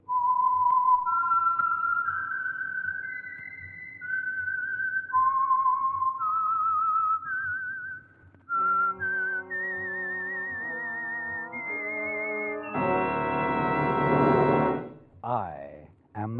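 A lilting whistled melody, the signature tune of the 1940s radio show The Whistler, rises and falls over a low musical backing, followed by a swelling orchestral chord and a brief final flourish.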